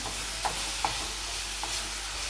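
Grated carrot being stirred in ghee for halwa in a pan, giving a soft steady sizzle with a few faint scraping stirs of the spoon, close and quiet, no voices.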